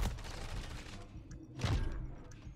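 Gunfire during a Search and Destroy round of a first-person shooter video game, where a sniper rifle is in use. Two dense, booming shots sound about a second apart, with the second louder and followed by a rumbling tail. No one speaks.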